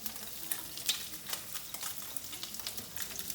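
An octopus head fries in a pan with butter, sizzling faintly and continuously, with scattered stirring scrapes and crackles close by and no one speaking.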